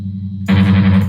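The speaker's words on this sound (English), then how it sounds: "That's distortion, that's not what we wanted." Bass guitar played through a switched-on preamp with heavy distortion, a steady buzzing, gritty low tone entering abruptly after a quiet hum and sustaining loudly to the end.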